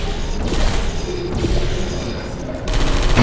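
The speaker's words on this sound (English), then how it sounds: "Especially with this fucking turret." Automated sentry turret in the video game Portal 2 firing a loud, continuous stream of rapid shots that lasts the whole moment, with brief dips in intensity.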